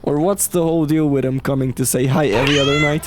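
A cat meows in a video game, giving several drawn-out, rising and falling meows in quick succession while a person talks over them.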